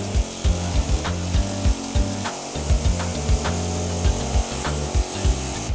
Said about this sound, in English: He's using an air hammer with the metal tip.